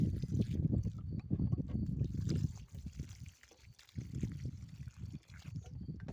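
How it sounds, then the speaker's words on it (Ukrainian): Water is poured generously onto a freshly transplanted watermelon seedling in a garden planting hole, making a close, steady low splashing pour with brief pauses and a dip midway. "Далі лию води. Води так багатенько лию, щоб трималася волога."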